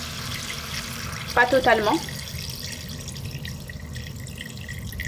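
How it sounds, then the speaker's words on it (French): Water is poured from a tap over softened onions in a cooking pot for a Moroccan seffa medfouna, a short splashing burst against steady background hiss, with a voice speaking briefly. "donc là je vais mettre de l'eau. Je vais couvrir d'eau en fait."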